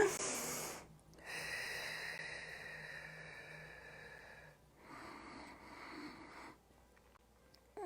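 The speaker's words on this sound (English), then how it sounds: "Remember that 7-count breath in through the nose, holding the breath for 4 beats and exhaling slowly through the mouth for 8 counts." Breathing during an exercise routine on a balance board: a long audible inhale through the nose followed by a slow, hissing exhale through the mouth, close and fairly quiet with a short pause between.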